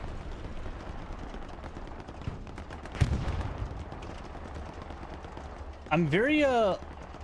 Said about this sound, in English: I think a pistol battle just took off between Lord Palpatine and that MG